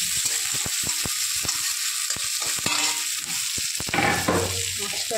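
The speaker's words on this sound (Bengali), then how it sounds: "এবার পেঁয়াজটা একটু ভালো করে ভেজে নিতে হবে।" Onion, chilli and garlic fry in a pan for a fish curry, a steady close sizzle broken by repeated scraping stirs, growing louder and more crackly toward the end with no voices.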